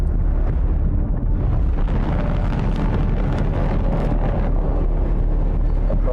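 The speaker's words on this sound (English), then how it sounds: "that's a torpedo. The ship fires a torpedo." A ship fires a torpedo during space combat in The Expanse, a loud, continuous roaring rumble of rocket exhaust that fills the whole stretch without letup.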